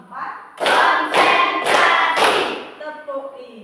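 Pupils in an Indonesian primary science lesson clap in unison to a teacher's count. Four loud, evenly spaced group claps come close together, with brief talk before and after.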